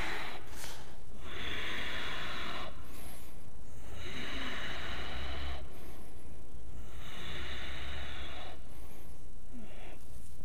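Slow breathing during a yoga twist pose in a strong morning flow class, with several long, airy inhales and exhales of clearly separated breaths, close and fairly soft, and no talking.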